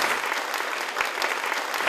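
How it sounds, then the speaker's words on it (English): Applause at a Vegan Earth Day celebration, a dense, steady burst of clapping from a crowd honoring the event organizers. "So please, applause for all the members."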